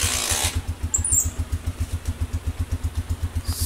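A Rusi Flame 150 motorcycle engine catches after a kick start and settles into a steady, close, rhythmic idle putter, with a brief burst of higher noise at the start; no one speaks.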